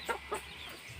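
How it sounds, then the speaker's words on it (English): A hen at a chicken farm gives two short, close clucks a fraction of a second apart, followed by quiet. "Look, a hen."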